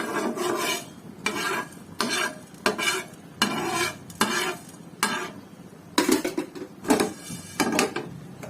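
Mango pickle is stirred in a pan over medium heat, with a steady series of scraping strokes against the metal, roughly one per second, close and clear with a light sizzle underneath.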